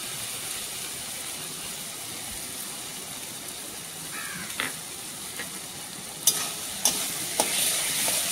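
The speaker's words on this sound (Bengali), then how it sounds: "আলুর সাথে উপকরণগুলো ভালো করে ভাজা হয়ে গেছে" Potatoes frying with a spice and cashew paste in a pan give a soft, steady sizzle, broken later by several sharp scrapes and clinks of stirring.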